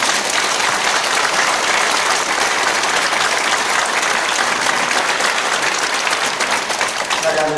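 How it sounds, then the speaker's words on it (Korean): Congregation applauding in a church during an elder ordination ceremony, a dense, steady roar of many hands clapping that fills the hall at full strength throughout. "우리 박수 한번 보내드리겠습니다."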